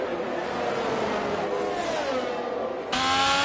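A Red Bull race car engine in a racing video game droning steadily, its pitch climbing as it revs, then jumping louder and higher near the end.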